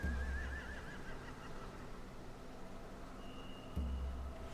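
A horse whinnies briefly at the start over a low rumbling background in a video game, followed by a thin tone and a thump near the end.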